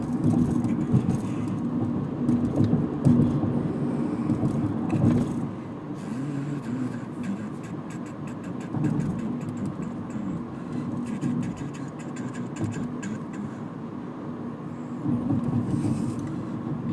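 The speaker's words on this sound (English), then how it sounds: "Lot of cars." Heavy road traffic where many cars merge as the road narrows to two lanes, a continuous low rumble of engines and tyres heard from inside a vehicle, rising and easing slightly.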